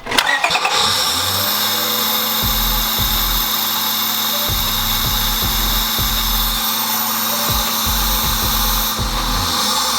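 Car engine cranking and firing up after an engine bay makeover, then settling into a loud, close, steady idle with repeated throttle blips revving it higher, no voices heard.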